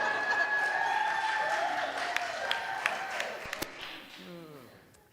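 An audience at a Christmas extravaganza stage show claps in a dense wash of applause that slowly fades, and a voice begins speaking as it dies away.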